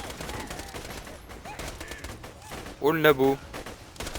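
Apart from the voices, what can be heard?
submachine gun firing in Borderlands 2 video game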